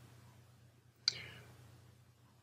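Single sharp computer mouse click, faint and close, standing alone against a low background hum.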